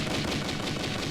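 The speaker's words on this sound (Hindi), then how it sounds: "जवान, मशीन गन को मैन करो।" Sustained machine gun fire in a battle scene from an action film, a dense, loud burst of rapid shots with no pause.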